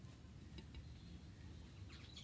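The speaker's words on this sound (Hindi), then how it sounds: "ये देखो यार चिड़ियों के बच्चे खेल रहे हैं अंदर" Faint, high chirps and tiny tweets from bird chicks in a nest come through sporadically over a low background hum.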